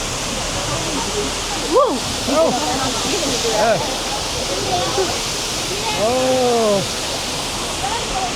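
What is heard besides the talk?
big waterfall up close from a boat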